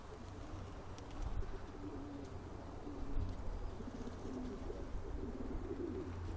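Flock of racing pigeons (young champions) flying and cooing outdoors in January, soft continuous coos and murmuring bird calls over a steady low ambient rumble, no talking.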